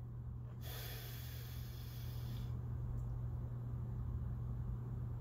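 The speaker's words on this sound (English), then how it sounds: "We're gonna breathe in." One long, deep inhale drawn in close through the nose, rushing and airy for about two seconds before fading into a steady low hum.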